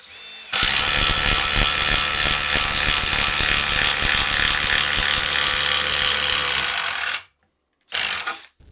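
A Milwaukee M12 impact driver hammers loudly on a seized nut, a dense continuous rattling burst lasting about seven seconds, then a short silence and a brief second burst.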